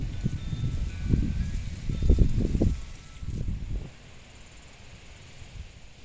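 Wind gusting across an open cassava field outdoors in dry, sunny weather, a low rumbling buffeting that swells to a peak in the middle and then settles into a steady faint breeze.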